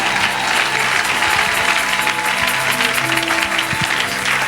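A church congregation applauds and cheers to praise God, a steady, dense wash of clapping and crowd noise filling the whole stretch, loud and close, with scattered voices mixed in.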